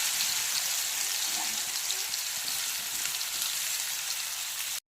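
Marinated cauliflower pieces shallow fry in oil in a pan, giving a steady, close sizzling hiss that carries evenly throughout and then cuts off abruptly.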